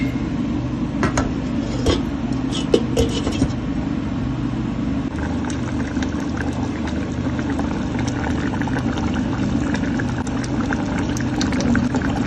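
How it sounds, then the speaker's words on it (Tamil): A pot of fenugreek curry cooked in sesame oil boiling on the stove, a loud, continuous bubbling rush that holds steady throughout, with a few faint clinks early on. "கொதி வரட்டு."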